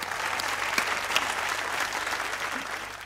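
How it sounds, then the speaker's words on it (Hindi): A game show studio audience claps in a loud, steady burst of applause, with a few sharper claps standing out near the front and no talk over it. "तालियां बजाइए।"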